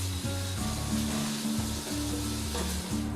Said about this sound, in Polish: Całość zalewam winem i gotuję do momentu, kiedy wino odparuje.